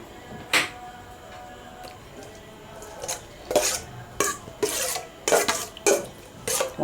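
A spicy mantis shrimp salad is tossed with sliced shallots in a bowl, producing a series of sharp clinks and scrapes of utensils against the dish in uneven bursts, close and fairly loud.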